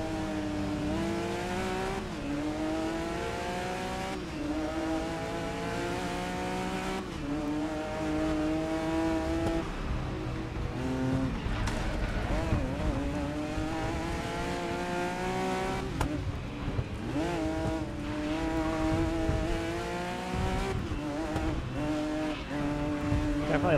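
A Porsche race car in GRID Legends drives hard, its engine whining steadily and rising and falling through gear changes, with occasional tire squeal, loud and continuous over music.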